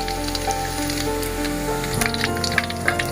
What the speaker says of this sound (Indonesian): panas minyaknya, kita masukkan bawang merah dulu, ada 2 siung, kita goreng dulu